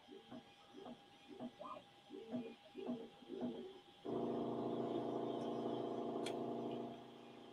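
A Bambu Lab X1 Carbon 3D printer runs indoors, first with a series of rhythmic mechanical whirring bursts, then a loud steady whine and hum for about three seconds before it eases off.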